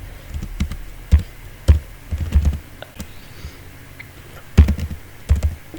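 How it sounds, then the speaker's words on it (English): Computer keyboard typing in irregular bursts of close, crisp key taps with short pauses between, fairly loud and alone without talk. "So for that purpose I must type"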